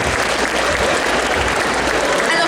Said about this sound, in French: Et on s'applaudit encore une fois bien fort.